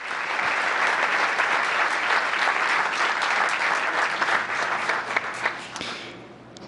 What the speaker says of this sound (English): Can we have a round of applause again for these wonderful men?